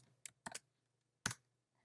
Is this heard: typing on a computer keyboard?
yes